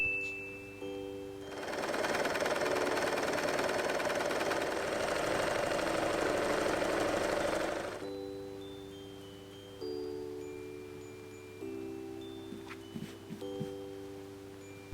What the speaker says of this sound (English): Then sew this part.